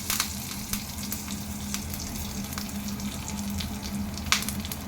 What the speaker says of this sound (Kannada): ಕರಿಬೇವು ಹಾಕ್ತಾ ಇದ್ದೀನಿ ಫ್ರೆಂಡ್ಸ್.